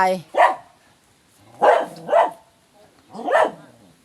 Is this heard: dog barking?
yes